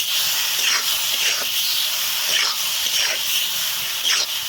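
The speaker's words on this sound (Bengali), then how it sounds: "এরপর আমরা আলুগুলোকে দিয়ে দেব।" Potatoes sizzle and fry in hot oil released from a spiced curry base for a potato and egg curry, a steady loud hiss running throughout with faint stirring scrapes and no talking.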